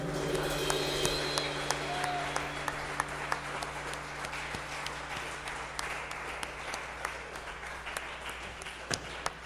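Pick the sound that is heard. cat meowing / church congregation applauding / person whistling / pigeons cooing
church congregation applauding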